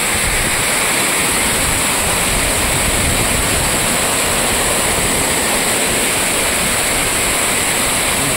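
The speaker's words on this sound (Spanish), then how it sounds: "Aquí en la cascada." A river waterfall at sunset roars in a steady, dense wash of falling water, continuous and loud throughout with no voices.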